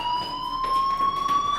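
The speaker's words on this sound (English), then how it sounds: "Hey, do you hear that fire alarm?" A fire alarm rings in the Life Is Strange video game, a steady electronic tone that holds for the whole moment at moderate loudness with no voices over it.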